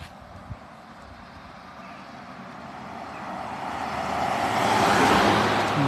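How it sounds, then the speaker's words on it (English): A car on a quiet country lane approaches and passes, its broad road noise building steadily from faint to fairly loud near the end, with no one talking. "I'm going to let this car go by."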